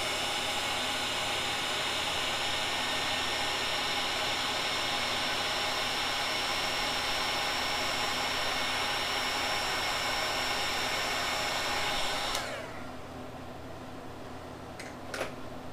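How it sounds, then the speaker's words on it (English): A heat gun blows a steady, loud roaring hiss at close range to relax a bend, running continuously for about twelve seconds before switching off sharply, followed by a couple of faint clicks. "I'm just going to relax this with the heat gun."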